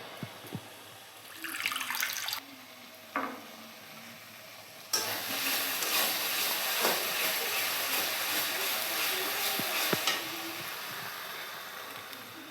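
Onion-tomato spice masala frying in oil in a pan for Bengali egg curry, a steady sizzle with stirring scrapes that grows louder midway, after short bursts of spattering at the start.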